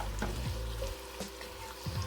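Celery and onions hitting a hot pan for jambalaya, a soft broadband sizzle with some scraping and clatter as they are stirred, fairly quiet and brief, with no talking.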